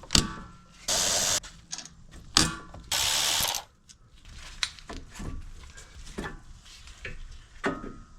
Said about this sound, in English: So I'm gonna swing the caliper out before I take off the bracket.